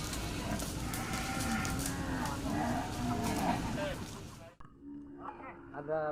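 Cattle on an oil palm plantation farm in South Kalimantan, with cattle lowing mixed into the noisy outdoor ambience and voices talking over it before a sudden cut to quieter sound.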